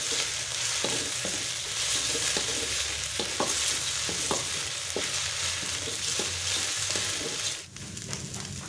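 Meatballs (bakso) frying in a pan with instant noodles, a steady loud sizzle with occasional stirring scrapes and clicks, no speech over it.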